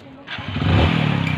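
A motorcycle engine runs close by, a low, steady rumble that swells slightly and then holds at an even, pulsing idle.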